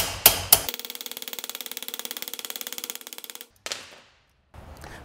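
Metal hammering while shaping a scrap metal rose in a high school shop: two hard opening strikes, then a fast steady run of ringing taps for about three seconds, a single louder blow, and a softer rustle at the end.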